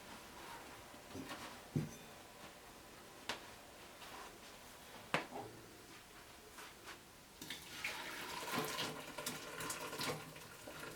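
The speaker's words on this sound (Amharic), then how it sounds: "ውሃውን ማጥለል ስላለብኝ" Cooked fava beans for Ethiopian ful being drained of their cooking water, a soft running splash of water with a few sharp knocks from the pot, growing into a steadier pour toward the end.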